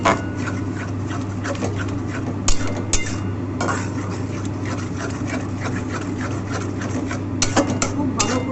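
Loitta (Bombay duck) fish jhuri fried in a pan with chilli powder is stirred and scraped. A steady rubbing, scraping texture runs throughout, with a few sharper clinks of the utensil against the pan over a constant background hum.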